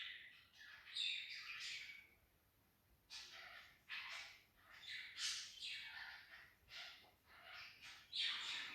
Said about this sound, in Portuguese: é pelo cantar dos passarinhos